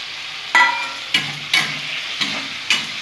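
Green chillies frying with a little turmeric for suji upma, a soft steady sizzle in the pan punctuated by five or six brief scraping stirs at irregular intervals, close by.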